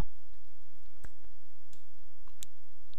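Computer mouse clicks while activating a university email account, heard as a few sharp, isolated ticks spaced irregularly over steady low background hum, with no talking.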